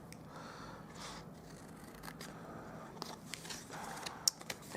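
Scissors snipping paper for a Stampin' Up! party favour, quiet scattered cuts and crisp clicks, faint and close, with no one talking.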